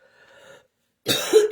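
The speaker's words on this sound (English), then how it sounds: "excuse the coughing and the snotty nose" A faint tonal hum fades out, then after a brief silence comes a single rough, close cough with a raspy throat.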